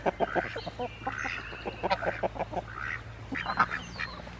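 Backyard homestead ducks, among them a drake and a laying hen, quack in a rapid, overlapping series of sharp calls close by, with a steady low hum underneath.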